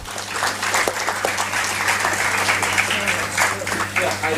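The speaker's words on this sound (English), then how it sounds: "A big round of applause for the first winner." At the valedictory session of an international conference on solid waste management and the circular economy, an audience applauds an award winner with steady, moderately distant clapping from a full room that lasts the whole stretch.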